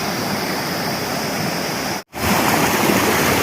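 Lake Mist waterfall with strong water pressure, pouring in a steady, loud, close roar of rushing water that cuts out for a moment partway through, then resumes at full strength.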